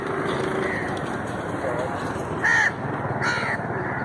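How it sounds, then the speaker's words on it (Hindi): Crows perched at a lakeshore in summer heat give two distinct caws, one in the middle and one shortly after, over a steady background hiss. "ये कौवे खुराक की तलाश में बैठे हैं झील के किनारे।"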